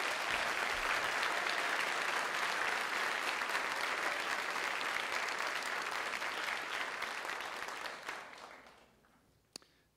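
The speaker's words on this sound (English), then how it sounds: "let's give them a round of applause, please." An audience at a student awards night gives a sustained round of applause, with dense clapping holding steady for about eight seconds before tapering off into a few final claps.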